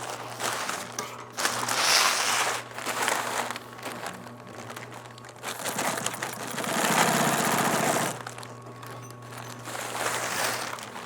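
A sewing machine stitches a tie onto a Tyvek gown in two runs of steady whirring, with stiff material crinkling and rustling between and over the stitching.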